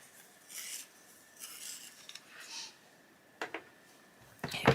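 A colored pencil, a dark zephyr blue, is sharpened in short quiet bursts of rasping and scraping, several brief strokes separated by pauses, with a sharper click or tap near the end.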